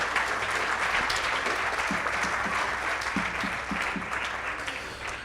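Sustained applause from a charity gala audience, steady and fairly loud throughout, with a few sharper individual claps standing out near the end.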